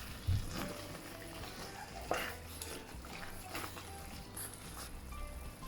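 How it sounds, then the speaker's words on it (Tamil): Thick Sri Lankan dodol made from unroasted rice flour is stirred in an oily pan, giving faint, soft scraping and occasional dull knocks of the spoon against the pan. "ஒன் ஹவர் அண்ட் 10 மினிட்ஸாக கிளறி கொண்டு இருக்கிறேன்"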